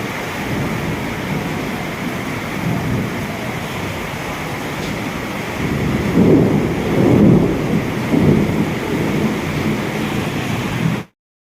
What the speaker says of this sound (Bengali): যেরকম বিদ্যুৎ চমকাচ্ছে সেরকম বৃষ্টি দেখো।